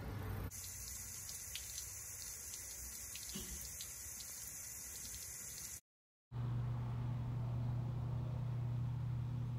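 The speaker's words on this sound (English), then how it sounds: "We're now gonna put a sprinkler on the front" Garden sprinkler spraying water onto the front of a brick wall treated with water repellent, a steady loud hiss of spray that cuts out briefly midway and resumes with a humming motor or pump tone.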